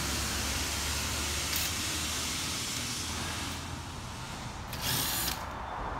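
A power drill unscrews the cabinet of a 2-ton straight cool Goodman package unit, a loud, steady whirring drive with brief pitch shifts as screws release, close up and without talking.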